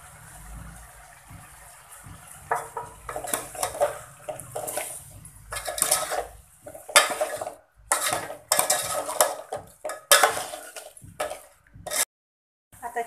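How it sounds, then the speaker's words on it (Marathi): Chicken with turmeric and salt being stirred in a metal pot, with loud clattering scrapes and clinks of the utensil in irregular bursts, broken by brief pauses. "आता छान मिक्स करून घेतलंय आपण हळद मीठ वगैरे घालून"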